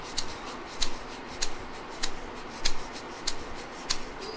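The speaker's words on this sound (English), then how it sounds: "it's an egg shaker." Egg shaker shaken in a regular rhythm, seven crisp rattling bursts spaced about every half second over a faint steady hiss, close and alone.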